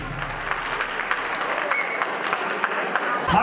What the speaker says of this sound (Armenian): Ծափահարությունները մեր զույգին։